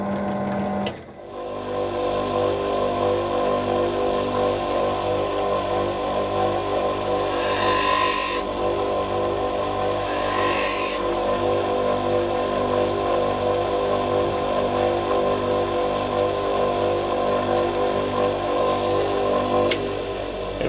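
An 8.5 mm drill, slightly blunt, bores into steel on a Warco lathe, giving a steady machine hum and whir throughout with a couple of brief higher-pitched squeals partway through.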